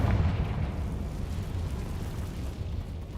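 Confringo spell blast in the video game Hogwarts Legacy, a deep rumbling explosion with a sharp onset that rolls on and slowly fades over a few seconds.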